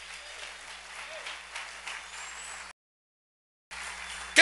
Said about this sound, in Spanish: Dale un aplauso bien fuerte al Rey.